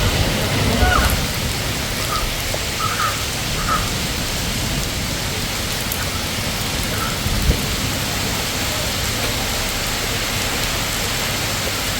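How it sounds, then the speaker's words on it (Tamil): Steady, dense rain hissing across the whole stretch, continuous and fairly loud, with no voices. "நல்ல மழை இன்னைக்கு."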